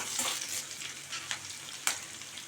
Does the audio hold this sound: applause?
no